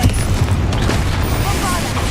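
Confringo fire spells blast during a troll fight in the video game Hogwarts Legacy, a dense, continuous barrage of booming impacts and crackling bursts at close range.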